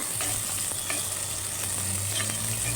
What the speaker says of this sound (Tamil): உப்பை சேர்த்து நல்லா கிண்டி விட்ருங்க.